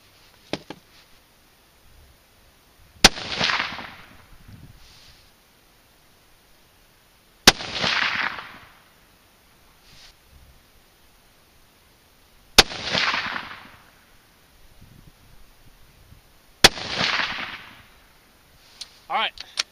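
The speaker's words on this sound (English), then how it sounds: "Go ahead and shoot one more group, and then I'm going to give the barrel just a few minutes to cool down." A .243 rifle firing Sierra 95-grain TMK bullets over IMR4831 powder at an outdoor range: four loud, sharp shots spaced roughly four to five seconds apart, each followed by a rolling echo, with faint sounds in the gaps.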